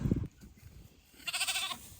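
A sheep, a ewe, lets out one short, wavering bleat after a low thump, heard close against a quiet, breezy background.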